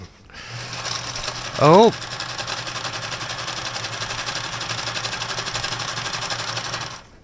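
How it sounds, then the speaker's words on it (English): A JCPenney sewing machine runs in a steady mechanical whir for several seconds, close and fairly loud, with a short exclamation from a person near the start. "We're going to find out if this JCPenney machine works or if it needs a little bit more help."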